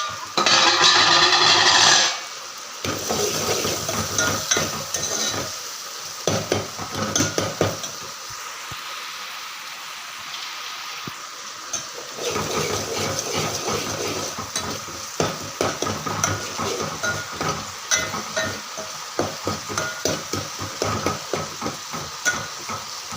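Bitter gourd (karela) frying in hot oil in a pan, a loud hissing sizzle at first that settles into steady frying with frequent scraping and stirring clatter of a utensil against the pan.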